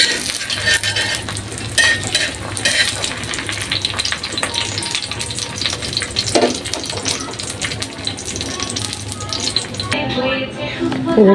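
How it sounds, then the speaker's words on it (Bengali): An egg fries in a home kitchen pan, giving a steady, close sizzle with light stirring and scraping throughout. "এটা ডিম ভেজে নেব।"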